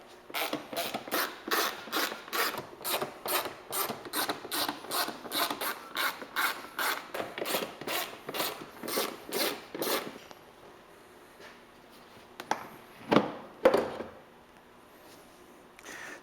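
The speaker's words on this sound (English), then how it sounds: "To access the air filters, we're going to remove 7 bolts around the perimeter of the air box" Ratchet driver working T25 bolts out around the perimeter of a Porsche 911 air box: about ten seconds of steady, close, regular clicking strokes, then quieter handling with a couple of brief metallic knocks.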